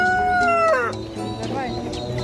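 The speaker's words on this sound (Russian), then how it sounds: "Ой, петушочки какие." Young roosters at the Northern market in Grozny give a loud close crowing call that breaks into clucks, with busy market noise and someone speaking nearby.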